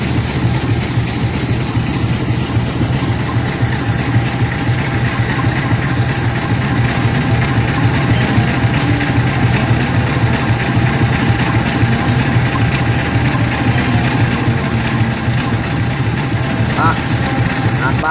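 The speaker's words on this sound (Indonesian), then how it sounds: "terlihat Alka yang mesinnya kembali dipanaskan untuk berdinas" An Indonesian diesel locomotive idling in the morning as its engine warms up for service, a loud, steady, rumbling throb continuing without a break.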